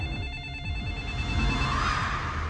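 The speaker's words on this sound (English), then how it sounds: "In every horror movie, there is a phone waiting to ring." A telephone rings in a horror movie trailer: an electronic ringing tone sounds steadily over a low rumbling background, moderately loud and without talk.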